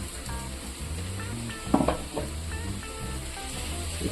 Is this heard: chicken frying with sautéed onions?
yes